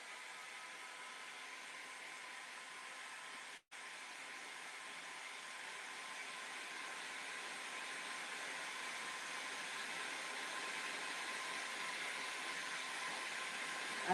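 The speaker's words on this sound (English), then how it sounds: "So I'm going to dry that quickly with my heat gun, just so we can carry on." A heat gun blows steadily on decoupaged tealight glass, a constant close hiss-and-whir lasting the whole stretch, broken by one very brief cutout early on.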